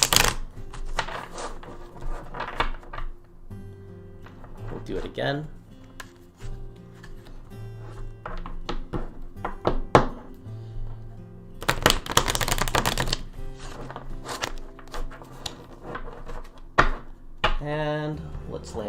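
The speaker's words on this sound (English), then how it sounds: "Let you guys hear the very loud slapping of the cards" Playing cards are shuffled and slapped in loud bursts of riffling and snapping, with a person talking between the shuffles.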